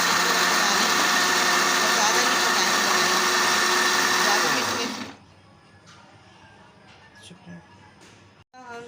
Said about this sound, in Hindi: हम जो इसको मिक्सी में पीसेंगे